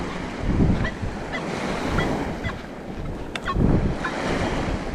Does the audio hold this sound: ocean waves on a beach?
yes